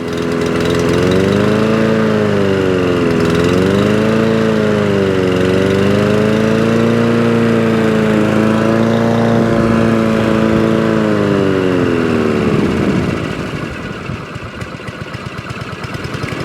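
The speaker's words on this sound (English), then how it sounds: "Idles beautifully." Honda HR21 lawnmower engine idling after a condenser and spark repair: a steady, loud mid-pitched putter with a slight wavering pitch, then dropping off near the end, alone without talk.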